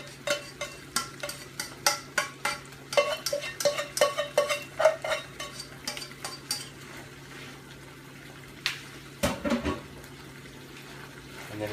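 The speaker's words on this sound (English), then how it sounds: "Now I'll just go ahead and add the noodles right in there." A wok of udon noodles with shrimp and vegetables gets stir-fried, utensils scraping and clanking against the pan in quick rhythmic strokes over a low sizzle, easing off midway before a few more sharp knocks.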